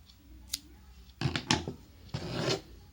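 Scissors cut yarn close by: a quiet snip, then a few short cutting and rasping strokes, with brief pauses between them.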